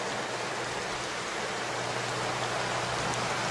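Steady, dense rain falling outdoors, an even hissing wash of drops with no pauses and no voices.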